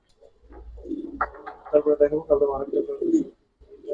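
Silver Giribaz pigeons coo in a short run of soft, rhythmic throaty pulses up close, with someone talking over and between the calls.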